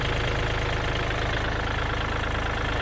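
A Kubota L4018SP tractor diesel engine idles steadily and loudly nearby, a constant low chugging knock with no speech.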